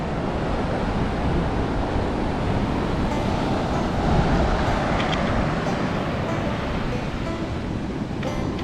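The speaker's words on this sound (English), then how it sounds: "beach at Stewarts Point. Down the beach" Surf rolls onto the beach at Stewarts Point in New South Wales as a steady, broad roar with some wind buffeting on the microphone, with no clear voices.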